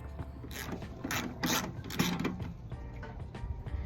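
A 10mm socket ratchet working the fuel pump bolts on a 2008 ZX6R fuel assembly, rapid close clicking bursts of the pawl in quick repeated strokes.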